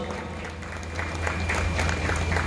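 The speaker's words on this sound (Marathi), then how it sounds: "एक जोरदार टाळ्या द्यायला पाहिजे" Audience applause at a ceremony, steady clapping that swells slightly over a low background hum and grows more vigorous toward the end.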